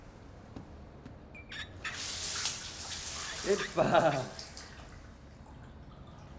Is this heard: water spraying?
yes